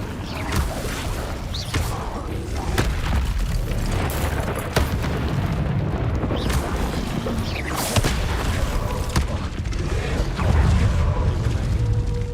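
Incendio fire spell blast in a Harry Potter parody, a series of rumbling booms and whooshing bursts layered over a continuous dense roar, loud and close.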